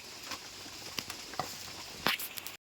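Cut taro stolons being washed in water, light splashing and patter with a few sharper sloshes near the end, fairly faint and close.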